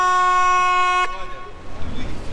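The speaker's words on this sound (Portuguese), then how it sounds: "De buzina assim, que é para avisar que a gente tá passando numa curva, para não vir um outro barco do outro lado." A moliceiro boat on the Aveiro canals gives a loud, steady horn blast for about a second as it rounds a bend, then cuts off, leaving murmuring voices and faint background noise.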